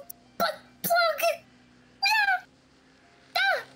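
A person imitates a cat with five short, high, wavering meows spaced out with quiet gaps between them, close and clear.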